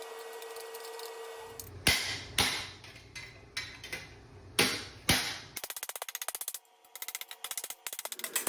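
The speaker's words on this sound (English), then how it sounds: "I'm doing the final flattening with a plastic hammer" A plastic hammer flattens a sheet metal flange, striking in a series of sharp, close blows, first a few spaced hits and then a quicker run of lighter taps.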